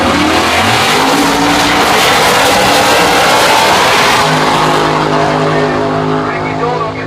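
Drag race cars in Outlaw 10.5 and EZ Street eliminations roar off the line together, a loud sustained engine blare with tire noise that fades slightly at the end, while an announcer talks over it.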